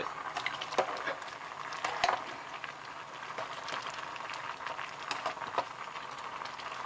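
Fermented fish dip (pla ra song khrueang) bubbling and stirred in a pot with tomatoes, a steady low simmering hiss with soft scraping stirs and small pops scattered throughout, close and moderate.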